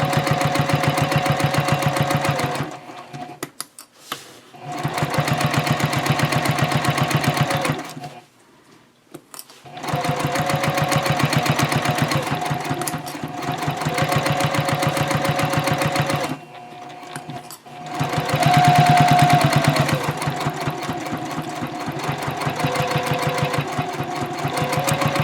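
Sewing machine running at stitch length 3.0, top stitching a messenger bag with an edge guide foot, in loud steady bursts of rapid stitching separated by brief pauses, including a short back stitch.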